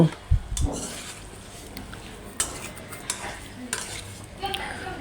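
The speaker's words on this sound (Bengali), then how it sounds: "এখন কিছুটা কষিয়ে নিয়ে আমি একটু এটাকে ভালো করে কষিয়ে নিব।" Potato curry with spices being stir-fried in a pan, with a low sizzle under repeated scraping and clinking of a metal spoon against the pan, close and fairly loud, with no speech.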